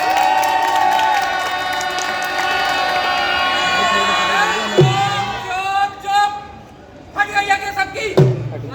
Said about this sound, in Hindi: दो ताली बजाओ दोस्तों।